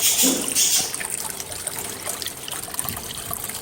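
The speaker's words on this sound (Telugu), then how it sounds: "అందరూ కొంచెం ఎంట్రన్స్లలో ఆ వాటర్ ఫాల్ అనేది పెడుతూ ఉంటారు" A decorative water fountain at a house entrance trickles and splashes steadily nearby, a bit louder at first, then settling into an even, continuous flow.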